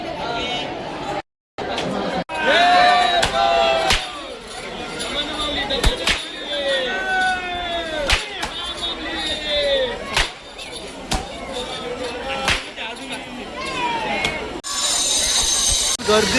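Dense crowd of devotees packed at Jejuri temple in Maharashtra, a steady murmur of many overlapping voices with scattered louder calls, close and continuous, briefly cutting out early and swelling again near the end.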